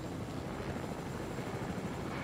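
A helicopter in an online shooter game flies nearby with a steady, dense rotor drone that holds constant and loud for the whole stretch, with no talk over it.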